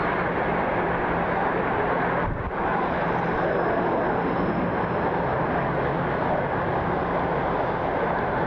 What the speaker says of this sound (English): Contact 737-900 taxiing over now.